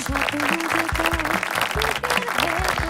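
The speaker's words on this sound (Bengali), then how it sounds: "সবাইকে জোর একটা তালি।" Audience clapping at a televised talent show grand finale as the champion is announced, a dense burst of applause mixed with loud stage music and rhythmic beats.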